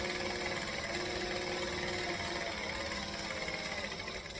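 A sewing machine stitches the lining of a tote bag, a fast, steady mechanical whirr and rapid needle clatter running continuously at close range, fairly quiet, with no talking.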